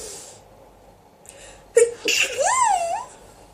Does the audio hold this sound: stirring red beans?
no